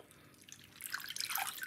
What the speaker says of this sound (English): So I'm going to remove it from this water.